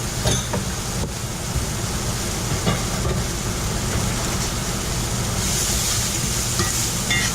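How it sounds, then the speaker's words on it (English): Garlic sizzles and browns in a cast iron pan, a loud, steady frying hiss with faint stirring scrapes, all up close. "Now I'm going to brown my garlic."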